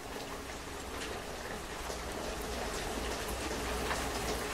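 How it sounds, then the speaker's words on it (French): Steady rain pours inside a house in the horror game Don't Knock Twice, a dense, even hiss of drops with a low rumble beneath, continuous and fairly soft throughout. "Ah, il pleut dans la maison"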